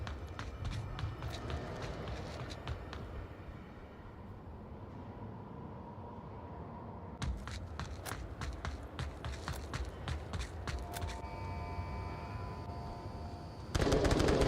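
Gunfire in the VR shooter Onward during a competitive league match, with bursts of rapid shots, sharp single cracks and footsteps running over continuous game ambience, the firing growing louder toward the end.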